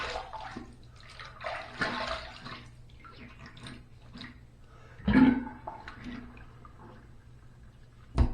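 Water from a tap runs and splashes in short bursts for rinsing after a shave, fairly faint and close, with louder splashes near the middle and end.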